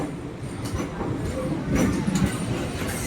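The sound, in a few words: MEMU train departing Palakollu railway station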